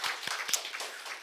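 Brief burst of applause in a church service for the broadcast team, a short patter of several people clapping at moderate distance with no speech over it.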